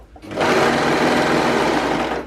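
A sewing machine runs steadily, stitching stretchy cotton lycra fabric with a continuous close whirring hum for about two seconds, with no talking.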